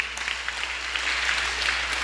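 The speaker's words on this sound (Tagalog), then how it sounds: "Palakpak na lang." A church congregation claps during a midweek sermon, a brief burst of scattered, mid-distance applause that holds steady for a couple of seconds over a low room hum.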